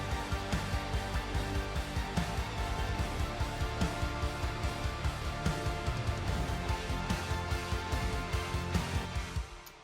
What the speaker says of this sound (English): It's Nexus, some string thing, very high.